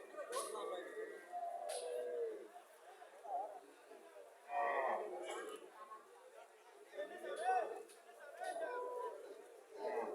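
Medium-sized Friesian dairy cows at a cattle market, several moos over a few seconds, fairly close, with people chattering around them.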